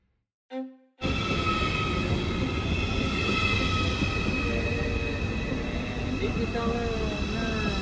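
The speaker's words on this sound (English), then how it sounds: "We're here in the Bahnhof sa Offenburg train station" A train at Offenburg railway station in Germany gives a loud, steady rumble with sustained high squealing tones that runs without a break. It follows a brief voice and a short quiet gap at the start.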